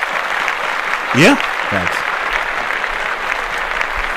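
A studio audience on a podcast claps in a short burst that carries on under a quick spoken interjection.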